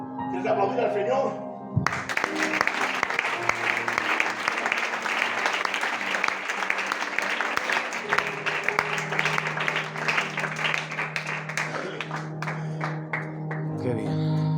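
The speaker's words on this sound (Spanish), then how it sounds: "¿Quieres aplaudir al Señor?" A church congregation claps and cheers for the Lord at an evangelical service, loud sustained applause filling most of the stretch, with voices and music running underneath.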